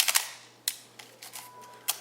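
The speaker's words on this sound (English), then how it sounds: "So certainly the shutters are working." A Konica Autoreflex TC mechanical film camera fires its shutter repeatedly, a series of crisp close clicks and snaps at uneven intervals, some doubled, in a quiet room.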